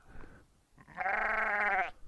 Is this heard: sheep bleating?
yes